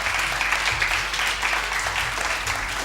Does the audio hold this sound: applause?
yes